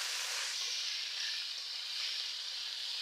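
Boiled vegetables go into a pan of hot oil with fried prawns, giving a steady, close sizzle and hiss that holds unbroken throughout.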